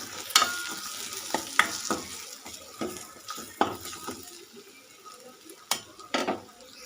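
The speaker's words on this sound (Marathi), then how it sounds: "लाल तिखट, धनिया पूड, सगळं टाकून असं फ्राय करणार आहे छान." Red chili powder and coriander powder fry in a pan for Maharashtrian misal, with a soft sizzle under repeated scraping and stirring strokes and light clinks of a spoon on the pan.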